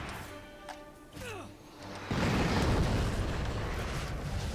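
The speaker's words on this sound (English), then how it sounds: "I'm gonna airstrike him." An airstrike in the Avatar video game erupts into a loud, sustained roaring explosion that swells suddenly and rumbles on, after a stretch of quieter game sounds and a faint voice.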